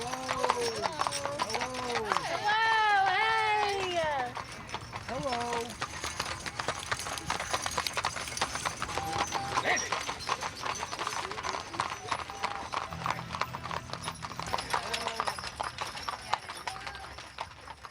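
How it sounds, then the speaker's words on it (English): Mules walk past at a Mule Day celebration in Columbia, Tennessee, their hooves clip-clopping steadily on pavement, with loud braying early on and a crowd talking throughout. "Here come the mules."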